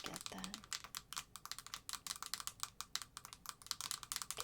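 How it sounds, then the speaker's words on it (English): Steady, fast clicking on a computer keyboard comes from close by during a quiet check-up role-play, with a brief murmur of voice near the start. "So I'm just going to type that in."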